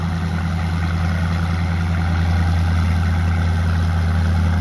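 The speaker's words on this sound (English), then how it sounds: "Got a new tractor, young driver." Steady low idle of a Minneapolis Moline tractor engine at an outdoor Nebraska tractor pull event, a constant, close rumble with no speech over it.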